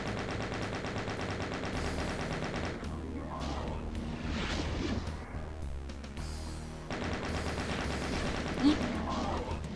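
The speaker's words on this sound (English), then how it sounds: "I can use chain gun as well." Chain gun fire in the Doom video game comes as long rapid bursts of shots, joined by heavier explosive blasts during a monster fight, loud and sustained across the scene.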